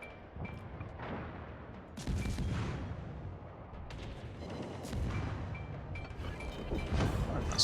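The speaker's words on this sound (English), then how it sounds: "Just a gun battle." Naval gun battle in World of Warships, with repeated booming salvos and rumbling blasts of ship guns firing and shells landing, dense and fairly loud throughout.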